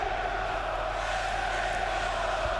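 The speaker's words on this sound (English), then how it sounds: "Just have a listen to the crowd at the Betzenberg today on Matchday 12." A football crowd fills the Betzenberg stadium in Kaiserslautern on a third-division matchday, a steady distant roar of voices and chanting that stays even and unbroken throughout.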